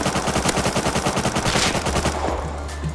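Automatic gunfire in the survival video game Rust, a loud rapid stream of evenly spaced shots for about two seconds before it breaks off into a lingering echo.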